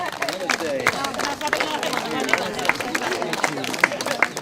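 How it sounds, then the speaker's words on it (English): Villagers of Deshani in Nepal clap together in unison, a dense, steady patter of many hands close by with crowd voices murmuring underneath. "With unison clapping"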